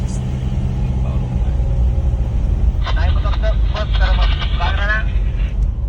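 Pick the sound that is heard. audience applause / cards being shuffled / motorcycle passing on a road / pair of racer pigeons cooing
motorcycle passing on a road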